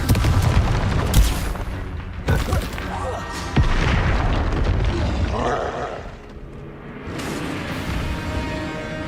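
A Confringo spell blast in the wizarding game Hogwarts Legacy booms loudly, mixed with further spell impacts, rumbling effects, and a voice shouting over the clash.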